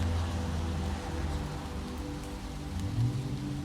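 Steady rain falls at night in a city alley, a dense, continuous hiss of drops spattering on hard surfaces, close and even throughout with no voices.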